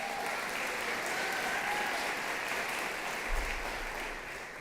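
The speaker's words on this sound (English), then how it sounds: "Let's give our MC a huge round of applause." Steady applause from an event audience at a teacher-appreciation evening, a dense even wash of clapping that holds for several seconds and eases slightly toward the end, with no talking over it.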